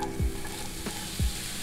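Onion or garlic cooking gently in a little oil for Swedish meatballs, a soft steady sizzle with two low scraping strokes of a spatula.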